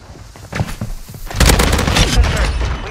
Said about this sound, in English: Tossing smoke grenade.